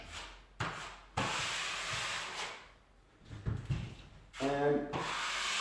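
Drywall taping knife spreading joint compound over screw heads, heard as repeated close scraping and wiping strokes with brief pauses between passes.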